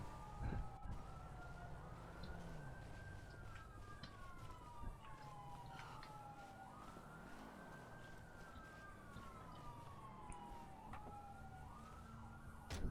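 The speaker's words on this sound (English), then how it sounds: "I hear a lot of sirens." Emergency vehicle sirens wail in long rising and falling sweeps, several cycles overlapping, fairly faint and distant above a low rumble of background traffic, with no talking.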